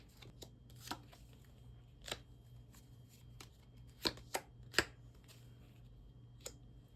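Tarot cards shuffled and drawn close by, with soft, scattered flicks and a few sharper snaps against a quiet background hum, no talking.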